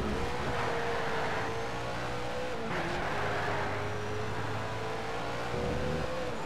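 A race car engine in the video game Need for Speed Shift whines continuously at high volume, its pitch rising and sliding with a brief dip around a gear change midway.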